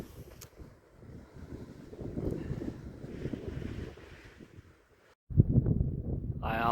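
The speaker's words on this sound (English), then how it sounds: "The sound of this wind." Gusty wind buffeting the microphone among sandstone rocks in a Utah canyon near Moab, a low rumbling roar that eases mid-clip and then surges back louder near the end.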